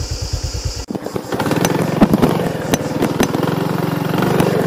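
A worn-out, faltering motorbike engine idles and then revs up, running steadily and close by, with a rough, bumpy rumble as it rides along a dirt road near the sea.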